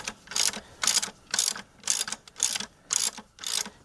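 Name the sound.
ratchet driving in a stud using two locked nuts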